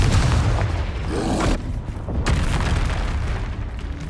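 Bombarda spell explosion in Hogwarts Legacy, a loud booming blast with heavy low rumble that swells and cuts off, followed by a second thud and fading rumble, with no voices.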